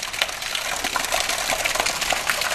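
Water gushes and pours steadily in big drops, a dense continuous splashing stream that stays loud and close without pause.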